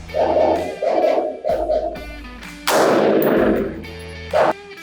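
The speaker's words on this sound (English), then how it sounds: "zeroing your red dot, you're like shooting and testing" Rifle shots fired on a range while zeroing a red dot sight, several loud sharp reports spaced about a second apart with a bigger burst near the middle, and a short blast near the end.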